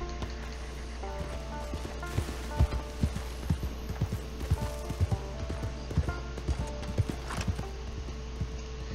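Horse hooves clip-clop at a steady walking pace in the video game Red Dead Online, fairly quiet and close, set over a constant low hum with faint game ambience.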